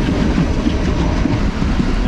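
Steady rumble and rattle from inside a moving Sri Lankan train car running beside a highway, with a rhythmic clatter of wheels on track and no voices.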